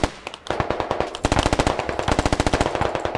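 Rapid automatic gunfire in the video game Squad, in an urban firefight in the town Chop Shop, heard as a dense, loud stream of close shots, one brief burst and then a long sustained volley, with no talking.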